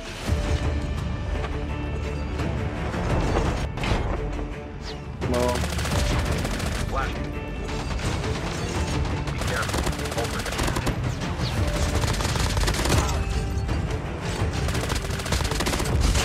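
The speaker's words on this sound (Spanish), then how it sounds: "Por arriba también se escuchan disparos" Sustained gunfire in Call of Duty Mobile, machine-gun bursts and scattered shots over a loud, busy battle backdrop, with crashes mixed in.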